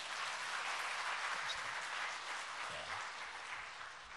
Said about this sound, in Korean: 이렇게 박수 한번 쳐주시는 겁니다.